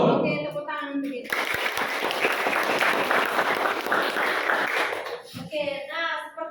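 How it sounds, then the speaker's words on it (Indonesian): A classroom group bursts into applause after a rhythm-clapping warm-up, a dense burst of clapping lasting about four seconds between stretches of a voice and other talk. "tepuk tangan untuk itu"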